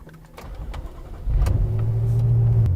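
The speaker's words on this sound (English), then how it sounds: "right now I am driving around in a 2014 BMW M6 sedan" A 2014 BMW M6 sedan's 4.4-liter V8 starts up and settles into a loud, steady idle close by after a short quieter lead-in, with no one speaking.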